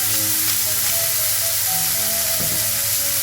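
Broccoli sautéing in a pan, a steady loud sizzle and crackle of frying with a brief stir or clink midway, close and continuous, with no talk.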